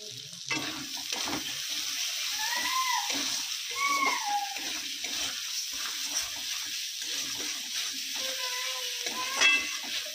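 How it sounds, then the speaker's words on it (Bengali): Fried potatoes tossed into a sizzling spice mix in a village home kitchen, soft frying hiss with intermittent stirring and scraping, fairly quiet and close. "এই মশলার মধ্যে ভেজে রাখা আলুগুলো দিয়ে দেব।"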